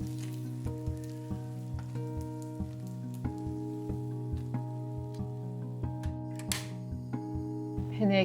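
Squeezed aged kimchi stir-frying in an oiled pan, giving a steady low sizzle with soft, regularly spaced clicks and scrapes over a constant background hum, close and fairly quiet.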